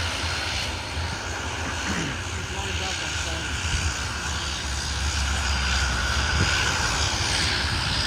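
A Boeing 777 airliner passes by during plane spotting at Sydney airport with a broad, steady engine roar that swells slightly, while people chat over it.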